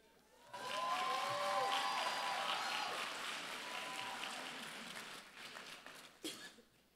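Audience applause at a graduate commencement ceremony for new doctoral degree recipients, a large hall of clapping that swells quickly, holds steady and fades over several seconds, with a stray cough and some cheering.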